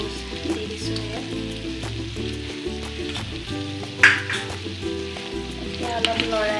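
Ground spice paste frying for jackfruit curry: a loud, close sizzle and spatter from the pan with scattered crackles, a sharp pop near the middle, and a low background hum throughout.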